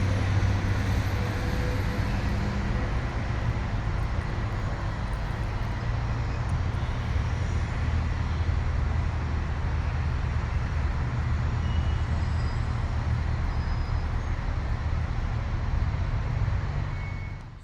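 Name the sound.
city traffic noise, highway, cars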